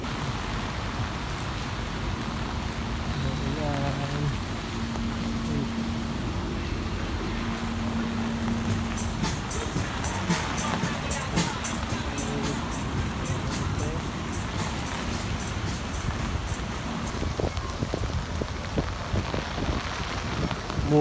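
Steady rain patters and hisses continuously, with brief spoken voices and faint tonal sounds early on beneath the downpour.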